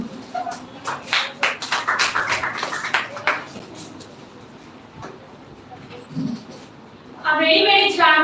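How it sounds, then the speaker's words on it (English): Short round of claps from a classroom audience greeting a student speaker at a school speech competition, moderately loud for about three seconds, then a quiet room and a brief high chirping noise at the end. "Okay. So please clapping for Miss Saloni."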